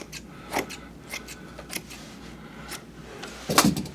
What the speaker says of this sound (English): we need to trim right to the edge on the bottom